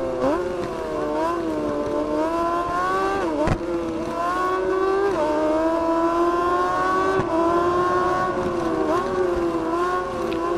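MV Agusta motorcycle of nearly two hundred horsepower in the RIDE 4 racing game, its engine revving high and continuously with rising and falling pitch sweeps and gear changes, loud and alone.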